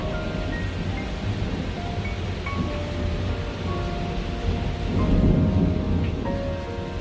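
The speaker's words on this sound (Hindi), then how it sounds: "देखो हवा तेज हो रही है और लगता है बारिश भी होगी।" Cartoon thunderstorm with strong wind and rain, a dense continuous hiss of rainfall over a low wind rumble, swelling into a louder rolling surge near the end, with no voices.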